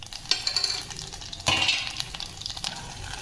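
Garlic, cumin and dried chilies hit hot oil for mango pickle with sharp bursts of sizzling, then crackle steadily as they are stirred, with a clink of a utensil and no speech.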